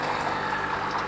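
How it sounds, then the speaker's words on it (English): Soil watering nozzles in a vertical grow system spray water in a steady, unbroken hiss and rush, close and fairly loud, with no talking. "The soil watering nozzles are operating, if you take a look."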